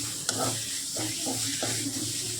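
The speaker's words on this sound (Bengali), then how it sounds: "তো চিনি দিয়ে আবারও আমি ভালো করে নাড়িয়ে নেব" Bean mash with sugar gets stirred in a frying pan, scraping where it sticks to the bottom, with a soft steady sizzle and a few distinct spatula strokes.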